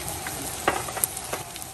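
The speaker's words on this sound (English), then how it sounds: "So you're going to stir fry it until all the liquid evaporates." Crab and corn seasoned with cayenne pepper are stir fried in a pan, giving a steady close sizzle broken by a few soft scrapes and clicks of stirring.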